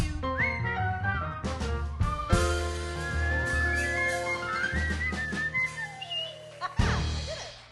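A person whistles a lively little tune at a jazz quintet show, melodic and close, with instruments backing the whistled line.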